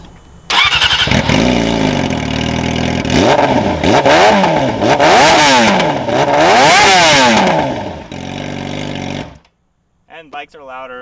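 A Yamaha YZF R6 sport motorcycle cranks, fires and idles loud and close, then revs sharply several times in rising and falling sweeps before cutting off. A voice speaks briefly at the end.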